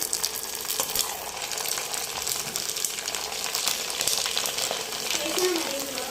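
Sun-dried vadiyalu dropping into hot oil for deep-frying, with a steady bright crackling sizzle that holds for several seconds, close and fairly loud, with faint movement noises around it.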